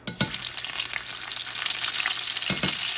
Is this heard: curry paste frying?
yes